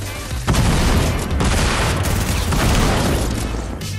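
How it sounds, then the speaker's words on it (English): A grenade goes off in Fortnite with a sudden loud, close blast, followed by a sustained rumbling, crackling roar that fades slightly toward the end. "I got him with the grenade, bro"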